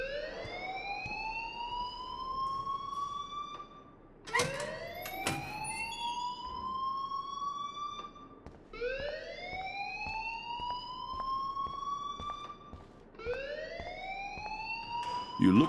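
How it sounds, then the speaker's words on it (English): An alarm in the video game Life Is Strange wails in repeated rising sweeps, each climbing and then holding steady, looping four times at a steady moderate level with faint clicks underneath. "please turn off that alarm since that's your job"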